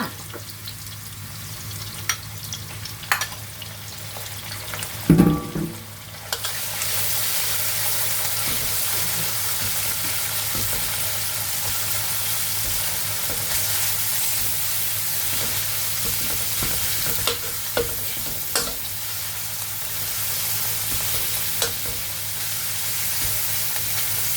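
Pork sizzles and fries steadily in a hot pan while being stirred for spaghetti, a loud continuous hiss with a few sharp clanks of the utensil near the start.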